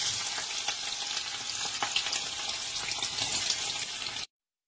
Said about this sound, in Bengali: এবার পেঁয়াজটা যতক্ষণে ভাজা হচ্ছে, আর একটু লাল লাল হবে পেঁয়াজটা